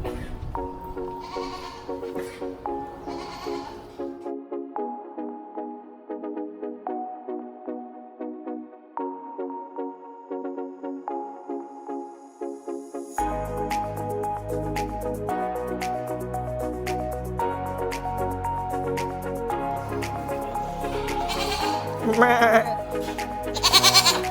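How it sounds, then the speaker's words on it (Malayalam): Goats of many breeds, including males, bleat at a Dubai safari park, the calls coming repeatedly and fairly close over busy background sound. "നിരവധി അനവധി വ്യത്യസ്ത തരത്തിലുള്ള ആടുകളെയാണ് നമുക്കിവിടെ കാണാൻ സാധിച്ചത്"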